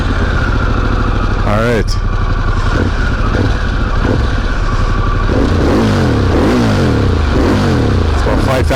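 A Harley-Davidson Pan America motorcycle engine cranks and fires up, then idles and revs repeatedly to about 5,000 RPM, loud and close, with someone speaking briefly over it.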